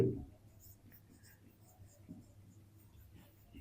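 A pen scratches softly across paper while math set elements are written out, a faint, continuous scribbling with small strokes at close range.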